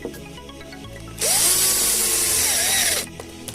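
A power driver whirs steadily for about two seconds while running a screw into a Vaterra Halix RC car bumper, loud and close, with its motor pitch dipping slightly under load, then stopping.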